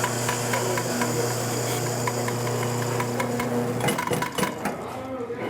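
A grinder grinds coffee beans for pour-over in a steady loud whirring hum, with rattling and clattering of beans and metal taking over toward the end.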